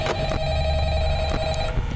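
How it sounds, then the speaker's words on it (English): A telephone rings in Five Nights at Freddy's, a steady electronic ring with tonal bands pulsing over a continuous hum, fairly loud and repeating through the two seconds. "How long are we supposed to wait just for the phone to pick up?"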